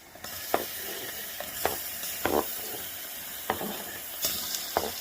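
Mutton liver frying with garlic in a pan, with a steady sizzle and a few sharp bursts and scrapes as pieces are stirred, close and moderately loud, no talking.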